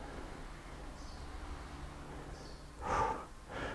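During a no-equipment cardio workout, a person blows out breath hard in two forceful puffs near the end, close and fairly loud over a quiet background hiss.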